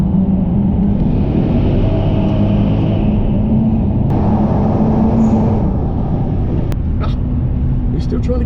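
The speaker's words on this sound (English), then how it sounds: "Dane, I'm sorry about ragging your motor, mate, but it's what it's for, innit?" A tuned 650 hp Mercedes CLS 55 AMG engine roars under hard acceleration in a loud, sustained drone from inside the car, with someone talking over it.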